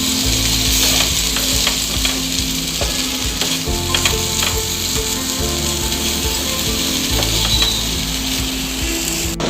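Bombil fish ball mixture sautéing on a low flame, loud continuous sizzling with repeated scraping and stirring strokes in the pan, no talking.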